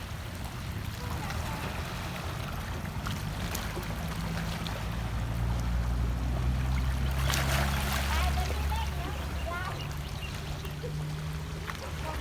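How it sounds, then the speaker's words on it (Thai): Steady wash of sea waves surging and rushing on a clear-water beach at Laem Taen, with a low rumble underneath and a faint voice now and then. "ฟังเสียงทะเลไปในตัวเพื่อนๆ"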